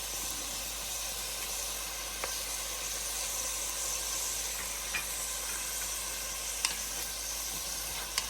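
Fresh ginger and garlic sizzle in a hot pan for an Australian lamb curry, a steady soft frying hiss with a few faint stirring clicks and spatters, no talk.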